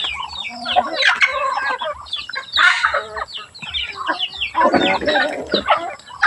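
Several chickens clucking close by in a busy, continuous chatter, with a brief rooster crow mixed in.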